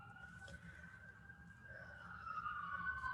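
A distant siren wails faintly, its tone sliding up and down against quiet background noise.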